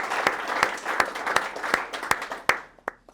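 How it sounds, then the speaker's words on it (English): An audience at a golf club event applauds with a steady rhythm of hand claps at moderate distance, then fades to a few scattered final claps. "Big round of applause again for you there."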